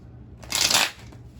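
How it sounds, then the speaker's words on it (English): A single burst of tarot cards being shuffled, a quick riffling flutter lasting under half a second against a quiet background. "shuffle one more time"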